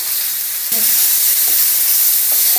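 Ground spice paste with cumin roasting in hot oil, a continuous bright hiss of sizzling heard up close and fairly loud, with a few faint clinks of stirring and no voices.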